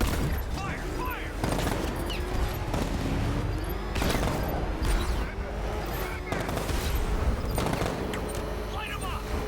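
Soldiers fire weapons in Batman Arkham Knight, with dense overlapping gunshots and sharp cracks repeating throughout amid heavy action noise, while voices shout over the battle.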